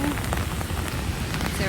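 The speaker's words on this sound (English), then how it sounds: "It's a rainy one today." Rain pours steadily on a foggy day around Clifton Hill at Niagara Falls, a dense, loud patter of drops striking nearby surfaces with no pauses.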